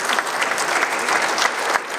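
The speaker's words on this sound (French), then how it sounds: "évidemment on va l'applaudir très très fort, Lemon Tree, bravo" An audience at a startup contest final at the Salon des Maires d'Ile-de-France claps loudly for the second-place winner, Lemon Tree, a dense steady burst of applause from a crowd.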